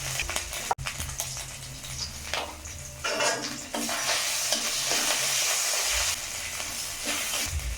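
Soybean curry sizzles in a pan at home while a spoon stirs and scrapes it in bursts. There is steady frying hiss throughout and one sharp clink near the start.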